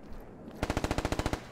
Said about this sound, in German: Wie ihr gerade seht, werde ich beschossen.